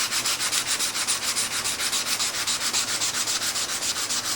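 Wood is sanded by hand with 220 grit sandpaper in fast, even back-and-forth strokes, a close, loud, regular hissing scratch with about four strokes a second.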